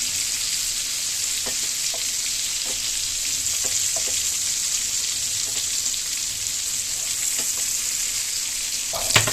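Prawns lightly shallow-frying in oil in a pan, a steady close hiss and sizzle with scattered small crackles and pops running throughout, no one speaking over it.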